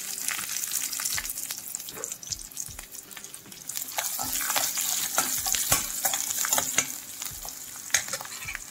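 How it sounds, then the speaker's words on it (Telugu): Cashews, ginger and garlic frying in oil in a pan, a steady loud sizzle broken by repeated scraping and stirring clatters of a spoon against the pan. "మొత్తంగా ఇవన్నీ కొద్దిగా బ్రౌన్ కలర్ పచ్చివాసన పోయేదాకా వేయించుకోవాలి."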